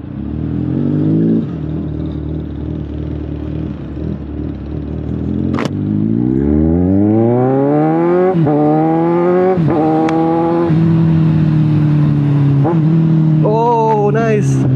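A car engine revs repeatedly as the driver blips the throttle while working the clutch to rev-match downshifts, the pitch climbing and dropping in several loud, close sweeps with brief clicks between them.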